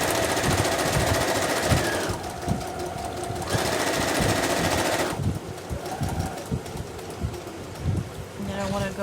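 A sewing machine runs a straight stitch through a fabric journal cover in loud steady bursts, stopping twice for brief pauses with soft handling before starting up again close to the microphone.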